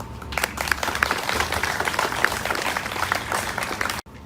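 An audience at a Hope Walk community event in Olathe applauds its first round of speakers, steady, fairly loud massed clapping for about four seconds before cutting off abruptly.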